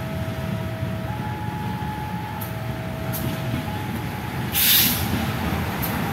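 A CC 206 diesel locomotive runs during shunting to couple with the Sri Tanjung passenger train: a steady low rumble and rolling rail noise continue throughout, with a faint tonal whine and a brief hissing burst near the end.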